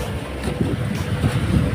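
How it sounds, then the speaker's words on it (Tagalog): Gusty wind buffets the microphone at the seashore, a loud, continuous low rumble that swells and eases, with no voices heard. "Mahangin."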